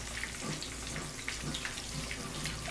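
Tangerines rinsed under a running kitchen tap, a steady broadband splash of water hitting fruit and sink, moderately loud throughout with no talk.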